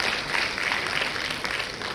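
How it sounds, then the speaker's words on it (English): An audience claps steadily in a dense, continuous round of applause lasting the whole two seconds, at a Women's Day event, with no voices over it. "A big round of applause"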